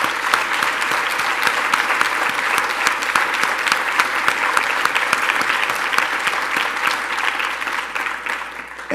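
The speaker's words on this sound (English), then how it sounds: "give them a hand" A conference audience at an opioid leadership summit claps for law enforcement and corrections officers, dense, steady applause that stays strong for several seconds and then tapers slightly at the end, with no talk over it.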